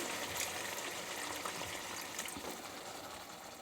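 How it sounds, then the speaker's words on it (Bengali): Water poured into a pan of fish curry with pointed gourd at the end of sautéing, giving a soft, steady trickling pour that holds evenly throughout at low to moderate level. "জলটা ঢেলে দেবো।"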